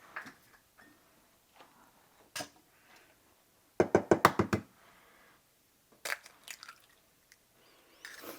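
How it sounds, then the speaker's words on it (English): Eggs cracked for a pecan pie in a home kitchen: a few sharp, close taps and cracks with a quick cluster of knocks midway, then soft handling noises in an otherwise quiet room. "We're going to crack these eggs."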